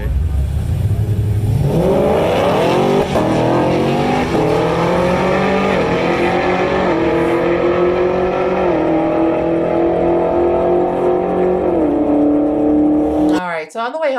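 A drag race car makes a full run at a drag strip, its engine climbing steadily through rising gear changes at high volume with no talk over it, then cutting off abruptly near the end.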